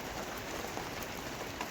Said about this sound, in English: all it's done is rain every day, non-stop rain